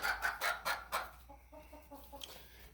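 Homestead chickens in a coop give soft, close clucks and short squawks, a few quick bursts followed by a quieter run of rhythmic clucking.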